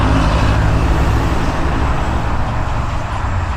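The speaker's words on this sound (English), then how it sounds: "So trucks rolling down the motorway." Heavy trucks rolling along a motorway, a steady, loud broadband roar of passing road traffic with deep engine rumble and tyre noise throughout, no voices.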